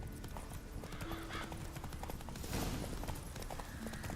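Roach the horse's hooves clip-clop steadily on the ground in The Witcher 3, a continuous rhythmic trot at close range with a faint whinny and ambient game sounds around it.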